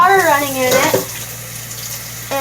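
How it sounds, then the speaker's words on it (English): Water from a kitchen tap runs into a cake pan, a short steady splash and hiss, with a voice speaking over the first second. "get the water running in it"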